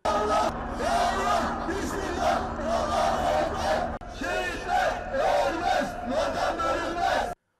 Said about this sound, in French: Ils sont hués par la foule